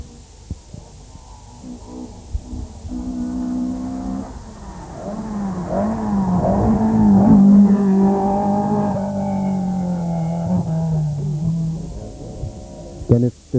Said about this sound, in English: This sounds very much like Dan Daly in his Nissan Datsun.